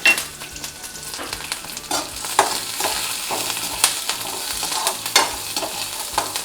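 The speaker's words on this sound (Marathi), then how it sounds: "त्याच्यातच आपल्याला लसूण हिरवी मिरची आणि हे दाणे छान परतून घे" Garlic, green chilies and peanuts frying in a pan, a continuous crackling sizzle broken by repeated scraping stirs of a spoon against the pan, close and moderately loud.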